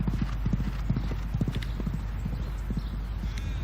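Horse hooves clip-clop in a quick, even rhythm of sharp knocks, close and steady, with faint background noise and no talk.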